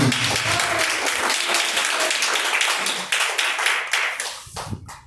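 A church congregation claps during a live worship service, a dense, lively burst of many hands that thins out and fades toward the end.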